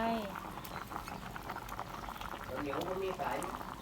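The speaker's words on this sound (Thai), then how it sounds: "ตอนนี้เราก็ต้มไว้ประมาณสัก 10 นาทีนะคะ" A Thai fish curry with grilled fish simmers in a pot, giving a close, steady bubbling and gurgling of boiling liquid, with a voice faintly heard over it.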